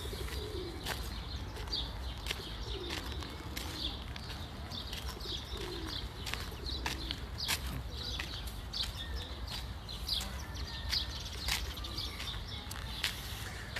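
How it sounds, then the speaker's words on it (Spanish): Pigeons coo repeatedly outdoors in low, rolling calls at mid distance, with faint chirps and occasional wing flaps over steady street ambience. "aquí hay unos pájaros intentando comerse a una señora"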